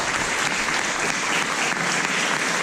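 Steady, dense applause from a church congregation fills the room, loud and continuous throughout with no breaks.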